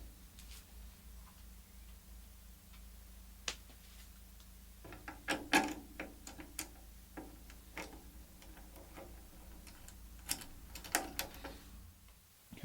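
Lock nuts being tightened on a model airplane build, an Extreme Flight 78-inch Extra: faint, scattered mechanical ticks and small ratchety clicks come in irregular clusters over a low, steady background hum, without voices.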